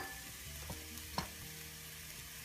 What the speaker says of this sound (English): I'm just gonna lightly saute mine.